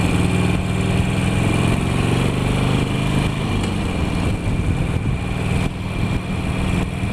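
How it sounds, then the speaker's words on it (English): A motorcycle cruising along a road through Canonsburg, Pennsylvania, its engine droning steadily and loudly with wind rush throughout, no talking. "so we're just cruising through Cannonsburg, Pennsylvania."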